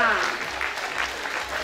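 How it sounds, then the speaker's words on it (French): A crowd at a caravan festival in the Cévennes applauds a staff member during a team presentation, steady close clapping throughout with voices mixed in. "Je vous demande d'applaudir Daniel."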